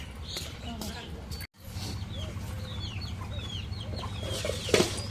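Chickens and ducks cluck and chirp repeatedly around a household meal, with scattered calls over a steady low background hum.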